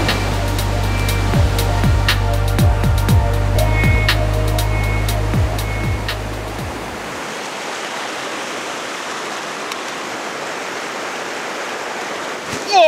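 Rushing river rapids in French Guiana make a steady, loud broadband roar. A motor hum with a few sharp knocks covers the first half, then fades and leaves the water alone.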